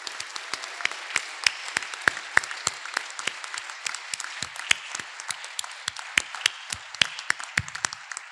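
Audience applause at an alumni award ceremony, many hands clapping in a steady, dense patter at moderate volume, sustained evenly throughout with no voices over it.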